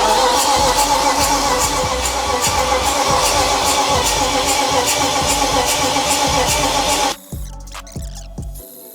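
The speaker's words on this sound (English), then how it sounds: "We've just spun the engine over" A BMW E46 car engine cranks over with a steady, rapid rhythmic chugging for several seconds, then cuts off, leaving a few quiet clicks and clatters.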